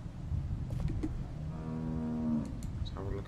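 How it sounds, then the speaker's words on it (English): A cow in The Walking Dead game lets out a single drawn-out low moo over a murmur of background noise, close and moderately loud, lasting about a second. "How do you like that cow"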